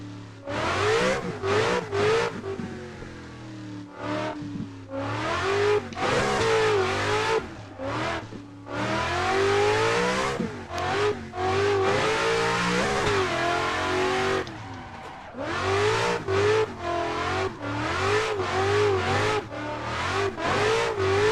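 A car in Assetto Corsa racing sim, driven in VR while learning to drift, with the engine revving hard again and again, rising and falling through the gears, loud and close with brief dips between pulls.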